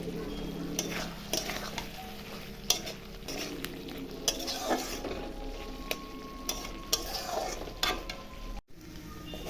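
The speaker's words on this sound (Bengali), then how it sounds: "এখন আমি পটল আলুটা কষিয়ে নিচ্ছি" Pointed gourd and potato are stir-fried with spices in a pan, a soft sizzle broken by repeated scraping and clinking of a spatula against metal, with a brief cutout near the end.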